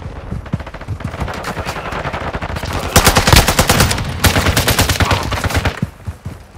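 Intense automatic gunfire from a 10v10 Moshpit match in Call of Duty: Modern Warfare 2, loud rapid bursts from several weapons overlapping and intensifying, with heavier volleys toward the middle.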